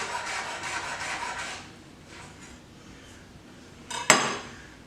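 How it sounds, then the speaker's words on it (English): Rolled leaves are sliced into thin chiffonade ribbons on a cutting board, a quick series of soft rhythmic knife strokes at first, then quieter rubbing, ending in one sharp knock of the blade on the board, close and alone. "roll them up, and very thinly slice ribbons"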